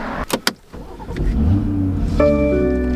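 A 2019 BMW X3 M40i starts moving off after a couple of sharp door-like knocks, its engine note rising into a loud, close, steady tone with a faint whine.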